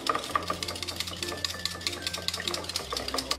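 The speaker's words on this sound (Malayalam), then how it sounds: "ഈ മുട്ടയും പാലും എല്ലാം ഇതിൽ നന്നായിട്ട് മിക്സാവത്തക്ക രീതിയിൽ ഇതൊന്ന് മിക്സ് ചെയ്ത് കൊടുക്കണം" A spoon or whisk stirs an egg and milk mixture in a bowl for bread pudding, making quick steady clinks and sloshing scrapes up close, with a low hum beneath.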